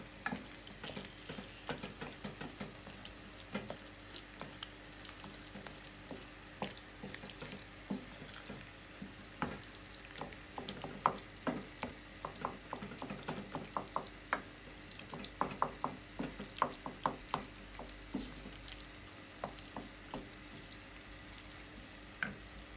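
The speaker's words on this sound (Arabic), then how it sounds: "كنحاولوا نمعكوه شويه بالمعلقه" A spoon stirs and mashes tomato sauce without onion in a frying pan, giving a soft, low sizzle under many irregular close taps and scrapes against the pan, fairly quiet throughout.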